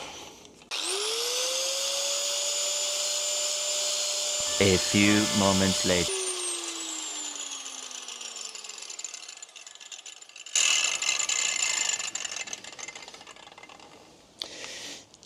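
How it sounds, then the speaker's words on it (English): An angle grinder with a metal cutting disc spins up with a rising whine and grinds through motorcycle chain links on a Kawasaki Z1000SX, loud and close, with gritty bursts of cutting and a brief spoken line. "you need an angle grinder. You're going to need a metal disc."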